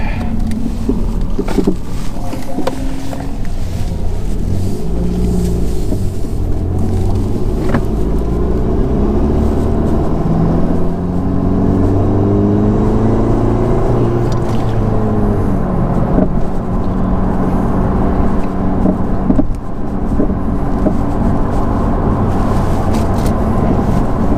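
A 10th gen Honda Civic Si fitted with a Mishimoto intercooler drives gently while warming up. A close engine drone runs throughout with rising and falling pitch as it shifts through moderate acceleration, plus road noise.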